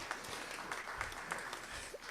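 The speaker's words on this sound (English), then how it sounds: "Please give her a round of applause." Audience applause at a celebration and book release party, steady dense clapping filling the whole stretch at moderate level with a few louder claps standing out.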